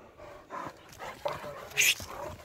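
Irish Wolfhounds out on a morning run give a few short barks and whimpers with some panting, fairly close, while a person speaks briefly nearby.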